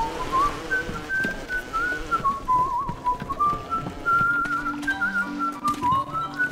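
Continuous wavering whistled melody from a whistler enemy in the video game BioShock, drifting up and down over a low game background hum, fairly clear and steady throughout.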